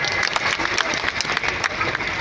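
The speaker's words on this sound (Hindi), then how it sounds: "हमारे देश के प्रधानमंत्री के लिए तालियां बजाएं" A crowd claps loudly and continuously at a political event in India, applauding Prime Minister Narendra Modi, a dense patter of applause that fills the whole moment.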